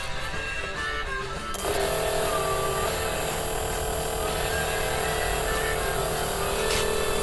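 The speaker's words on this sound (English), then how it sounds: "you'll see the little motor spinning away, and that's triggering the pickup, which triggers the module, which triggers the coil to make spark" A small tape recorder motor wired to a pickup, four-prong module and ignition coil starts up, and a steady busy whirring and buzzing runs on loud and close after it switches on.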